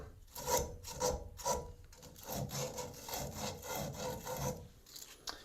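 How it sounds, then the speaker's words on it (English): Plumber's sandpaper rubbed back and forth around a pipe edge during a bathtub and shower fixture installation, a steady close rasping scrub in repeated strokes, with no talking. "Let's use a little bit of this plumber's sand putty, or plumber's sandpaper. Just if there's anything rough around that edge"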